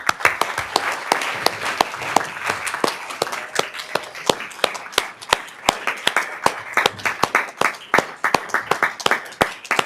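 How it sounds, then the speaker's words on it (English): Audience applause at a Sacramento City Unified School District board meeting, dense steady clapping from a room of people with sharp individual claps standing out, continuous throughout and fairly close. "we're going to give you another round of applause as you come up"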